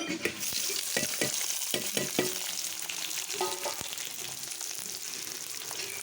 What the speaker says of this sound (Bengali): এরপরে দিয়ে দেবো পনির ভাজা।